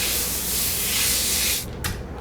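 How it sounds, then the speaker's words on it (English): Canola oil cooking spray hisses loudly and steadily onto a foil-covered pan for over a second, then stops, leaving one brief short spritz after it. "I've got this cooking spray from the Costco store."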